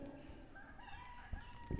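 A rooster crows faintly at dawn on a Jamaican backyard farm, a drawn-out cock-a-doodle-doo with clucking fowl and soft background noise.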